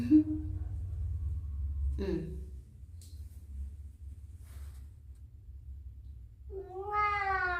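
A cat meows indoors in a bathroom, giving a short call early on and a longer, clearer meow near the end over a low steady background hum.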